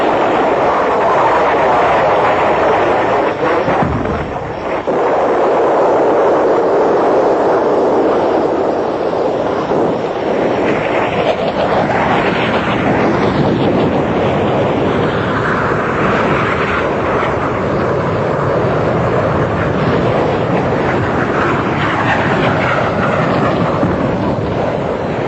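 Military airplanes flying on a bombing mission in Colombia, a loud, sustained engine drone that swells and shifts over about twenty-five seconds, with rough wind-like rumble and no speech.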